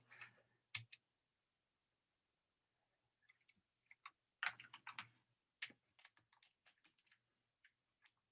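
Computer keyboard typing in quiet surroundings, coming in short irregular bursts of close, crisp key clicks separated by pauses, with a dense flurry midway and scattered single taps toward the end.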